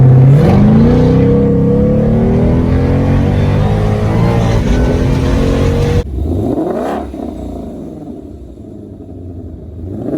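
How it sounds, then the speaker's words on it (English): A 2020 Ford Shelby GT500 with its exhaust in track mode, loud and close, its engine note and supercharger whine climbing under acceleration, then a sudden cut to a lower, easing rumble. "right now we've got the exhaust in track mode, so you can hear that true whine"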